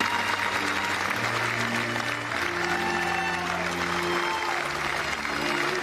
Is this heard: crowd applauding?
yes